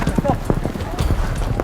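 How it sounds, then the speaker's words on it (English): Horses galloping in a Tajik village during traditional sheep grabbing, busy hoofbeats thudding under a crowd and a talking voice, dense and continuous. "Brave men on their horses, throwing these sheep around, speeding to the goal."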